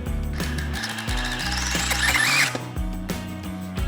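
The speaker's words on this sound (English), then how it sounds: "Now, we're gonna go back in the hole that we've drilled out. We're gonna set that Tapcon." DeWalt driver setting a Tapcon concrete screw into a pre-drilled hole, its motor whirring and ratcheting in stepped bursts with a brief squeal, close and alone.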